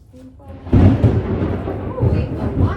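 Thunder during a stormy exercise session, a deep rolling rumble that swells suddenly and rumbles on loudly at close range, with faint voice sounds just before it.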